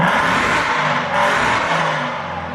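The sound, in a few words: straight-piped Aston Martin V8 Vantage engine revving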